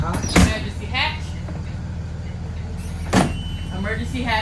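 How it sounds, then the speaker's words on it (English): The emergency roof hatch of a school bus is pushed open during a pre-trip inspection, giving two sharp mechanical clunks over a steady idling engine rumble, with someone talking nearby. "Emergency hatch open."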